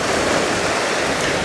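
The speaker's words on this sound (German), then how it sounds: "den Wellen, die dann aufs Ufer schlagen" Lake waves wash steadily against a shoreline strewn with branches near the Uhldingen pile dwellings, a continuous broadband surf roar that stays loud and close throughout with no voices.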